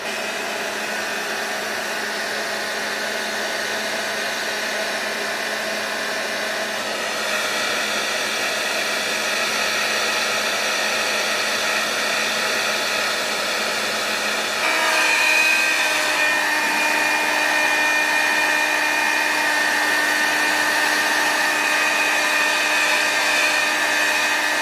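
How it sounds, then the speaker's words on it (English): A handheld blow dryer on its cool setting blows nonstop near a lace wig hairline, a loud, close, even whir that shifts pitch slightly partway through. "I'm gonna take my blow dryer on a cool setting and also use my rat tail comb to push it down into place."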